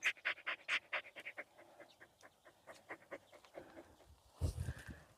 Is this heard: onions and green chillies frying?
no